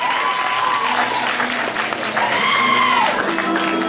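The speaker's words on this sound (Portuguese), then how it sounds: "Palmas, palmas pra participante número 2" Party audience cheers and applauds contestant number 2 at a blind date class event, a dense continuous wash of clapping with excited vocal whoops and tonal calls rising and falling over it.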